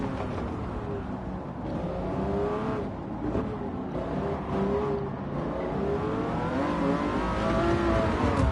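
A McLaren F1 racing car in a racing game, its engine revving steadily with a rising and falling whine as the car climbs and drops through the gears, loud and continuous throughout.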